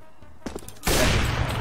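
Gunfire in Counter-Strike: Global Offensive, a few faint taps followed by a sudden loud burst of shots that keeps ringing to the end of the short moment, with no talking.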